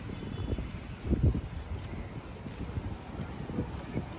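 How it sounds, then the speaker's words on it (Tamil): Light wind blowing outdoors in Batticaloa during a cyclone and flood period, a steady low rumble of wind buffeting the microphone with a brief stronger gust, no voices. "லைட்டாக காத்தா தான் கிடக்கு எல்லா இடமும்."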